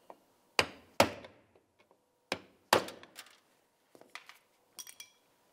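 Several sharp metallic hammer strikes on a punch ring out one by one with short pauses, followed by lighter taps and clinks, while removing a front exterior door handle on a 2003-2011 Mercury Grand Marquis.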